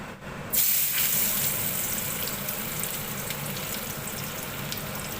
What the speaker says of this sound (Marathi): आता कढईमध्ये तेल टाकलं आहे मी त्याच्यामध्ये कांदा टाकते मी